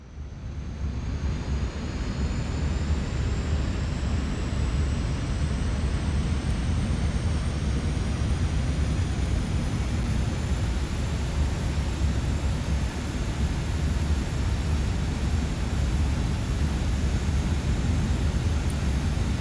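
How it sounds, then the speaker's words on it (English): An airliner taxiing to its parking spot in Airport Manager Simulator 2026 gives off a continuous, even jet-engine roar with a thin high whine on top, holding steady at strong volume throughout, with no voices. "First of all, we got to direct the plane in."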